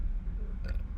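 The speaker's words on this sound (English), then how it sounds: "That was a gross burp." A single gross burp, a short low guttural belch that rises briefly near the end, with no talk.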